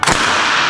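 A toy cannon firing at a Lego house: one sharp, loud bang at the start, followed by a bright, hissing burst that trails off within a fraction of a second, very close.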